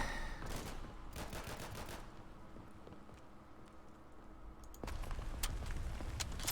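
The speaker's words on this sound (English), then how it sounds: "He can shoot a lot faster with that gun than I can." Gunfire from a World War II weapon in the game Day of Infamy, a cluster of sharp shots early on, then a quieter stretch of distant battle noise before another burst of firing returns near the end.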